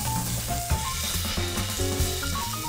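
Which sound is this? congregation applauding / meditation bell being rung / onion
onion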